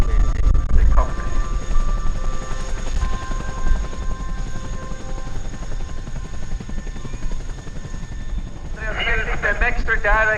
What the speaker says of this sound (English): prepare your cameras for the final split of the Swiss Air Force PC-7 team just in front of us